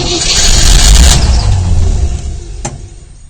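Land Rover V8 engine cranking and catching on only some cylinders, a loud, rough, uneven rumble that swells briefly and then fades toward idle, with a short sharp knock near the end.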